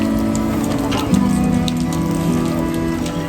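Heavy rain pouring down in Putrajaya, a steady dense hiss of drops hitting surfaces, continuous and fairly loud throughout, with a faint low mechanical tone running underneath.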